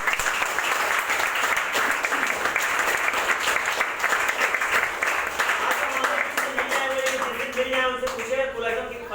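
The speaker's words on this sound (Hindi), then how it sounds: "एक बार जोरदार ताली चाहूंगा उनकी।" Audience clapping loudly at a gathering, dense continuous applause that thins toward the end as a voice begins speaking over it.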